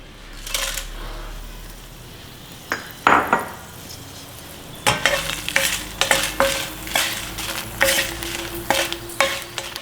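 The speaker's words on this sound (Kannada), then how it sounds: "ಸೊ ಈಗ ಈ ಎಣ್ಣೆಯಲ್ಲಿ ಒಣಗಿದ ಮೆಣಸಿನ್ಕಾಯಿ ಹಾಕ್ಕೊಳ್ಳೋಣ." Dried red chillies frying in oil, a soft sizzle with a run of rhythmic stirring scrapes and clinks of a spoon against the pan, growing busier in the second half.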